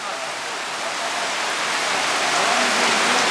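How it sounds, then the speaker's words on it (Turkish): Steady heavy rain pours down at an outdoor village wedding in a dense, hissing wash that grows slightly louder toward the end. "bu yağmur her zaman yağmaz böyle"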